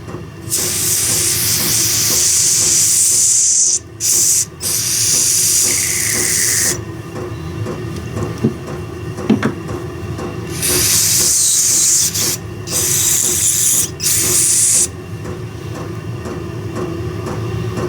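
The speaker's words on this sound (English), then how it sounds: "I'm just gonna give her some carb spray and then get her cleaned out a little bit." Carburetor cleaner sprays onto the carburetor of a Stihl TS400 cut-off saw in loud, close hissing bursts, several long blasts broken by short pauses, with no talking.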